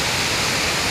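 A hidden waterfall near Khed pours in a steady, dense broadband roar, loud and unbroken throughout with no voices.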